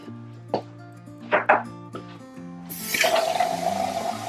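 Kitchen tap switched on, water gushing into a container for the last second or so, loud and close, after a few knocks and clunks of handling with background music tones playing underneath.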